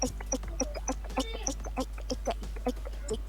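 Chickens cluck in a quick, irregular rhythm of short repeated calls, fairly close, over a steady low hum.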